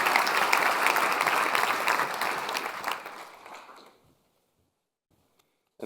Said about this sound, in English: Can we get a big round of applause for Maroš Šefčovič?